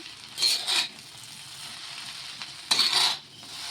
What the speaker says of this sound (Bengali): কড়াইটা একটু শব্দ হচ্ছে কারণ কড়াইটা নতুন তো, তার জন্য একটু শব্দ হচ্ছে।